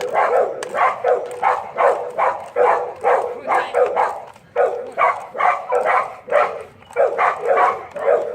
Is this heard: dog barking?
yes